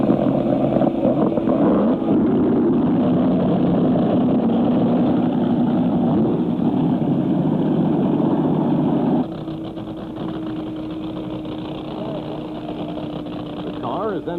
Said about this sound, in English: the driver turns on the magneto switch, and the engine lights and idles